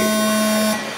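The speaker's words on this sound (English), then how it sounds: "Novice destruction at the tone." Electronic start tone for a novice race at Thornhill's grand reopening: a steady, harmonically rich buzzing beep held for about three-quarters of a second, then cut off, heard alone.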